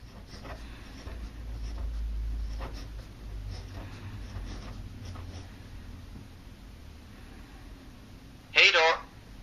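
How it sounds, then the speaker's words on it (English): A Livescribe Pulse smartpen writes on paper, giving faint, scattered scratchy strokes over a low background hum, then a short, sharp electronic burst near the end. "here I'm going to write the word goodbye."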